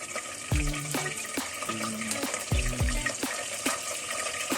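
Bay leaves and cloves frying in hot oil in a pan for chicken curry, a crackling sizzle with a few sharp pops and clatters standing out against a steady background hiss.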